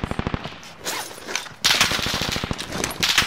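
Rapid automatic gunfire from enemies in a video game rattles in dense bursts. A short lull comes before a louder, heavier volley.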